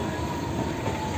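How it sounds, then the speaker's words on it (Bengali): Biswabharati Express rolling slowly from one track onto another, with a loud close rumble of wheels on rails and a steady grinding squeal. "স্লোভাবে লাইনটাকে পাস করে অন্য লাইনে ঢুকছে, অন্য ট্র্যাকে ঢুকছে আমাদের ট্রেনটা"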